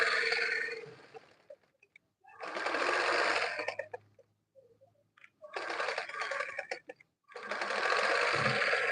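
A sewing machine runs a gathering stitch along a dress sleeve in four separate bursts, each a steady, close whir lasting about a second or two, with quiet gaps between.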